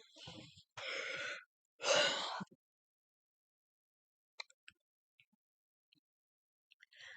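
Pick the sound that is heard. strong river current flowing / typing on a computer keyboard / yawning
yawning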